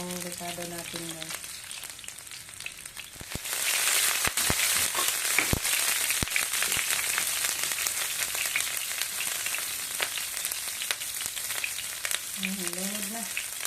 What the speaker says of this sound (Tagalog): Gisa tayo ng ricado. Garlic at saka sibuyas dahonan lang yung ricado natin guys.